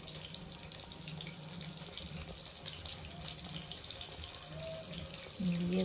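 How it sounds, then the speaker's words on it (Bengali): Whole fish rinsed under running tap water in a sink, a steady broadband wash of flowing water with soft splashing throughout, close and moderately loud, growing slightly louder near the end. "আমি গোটা গোটা এইভাবে জলে ধুয়ে নেব"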